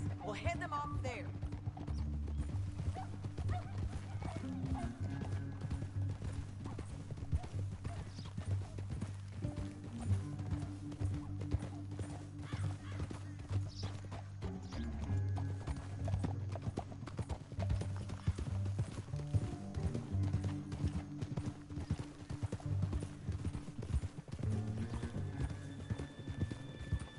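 Horse hooves clip-clop steadily in Red Dead Redemption 2, a continuous rhythmic trot under music and speaking voices, with an occasional whinny.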